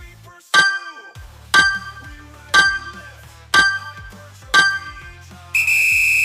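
Workout interval timer for a kettlebell HIIT session sounds five evenly spaced bright chiming beeps about a second apart, then a sustained higher tone begins at the end, clear and close with no talk.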